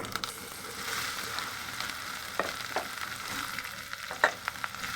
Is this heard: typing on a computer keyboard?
no